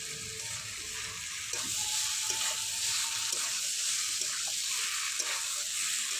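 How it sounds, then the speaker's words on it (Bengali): Fried potatoes and cauliflower sizzle in spice masala in a pan, a steady frying hiss that grows louder partway through, with occasional soft scrapes of stirring, close and unaccompanied by speech. "আবারও 2 থেকে 3 মিনিটের মতো মশলার সঙ্গে আলু ফুলকপি কষে নেব"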